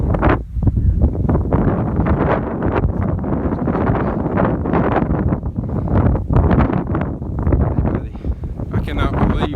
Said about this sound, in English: I cannot believe the wind up here.